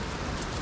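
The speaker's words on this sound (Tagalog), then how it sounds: "Umuulan-ulan." Steady, soft hiss of light rain falling outdoors near a river, an even wash of sound with no talk.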